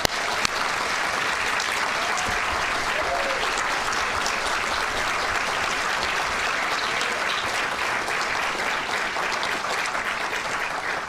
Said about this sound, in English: Let's give them now another round of applause.